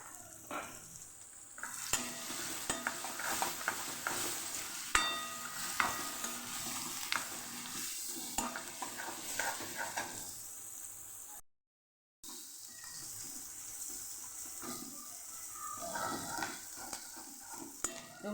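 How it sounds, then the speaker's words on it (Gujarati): Finely chopped onions sauté in hot oil with cumin and asafoetida for a Kathiyawadi potato curry, giving a steady close sizzle with stirring scrapes and a brief silent gap midway. "ડુંગળીને સરસ આપણે સાતળી લેવાની છે"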